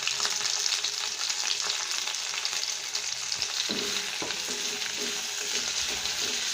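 Curry leaves, dried red chillies and coriander leaves sauté in hot oil, giving a steady bright sizzle with occasional stirring scrapes and crackles, no one talking.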